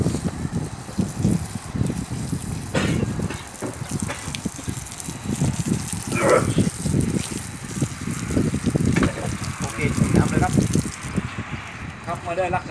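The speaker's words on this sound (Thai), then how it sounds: "ช่างเปิดน้ำให้หน่อยครับเพื่อที่จะทำการเทคอนกรีตนะครับ" Water runs from a hose onto a bathroom floor slab being prepared for a concrete pour on a Thai building site, a steady gushing and trickling under nearly continuous workers' talk.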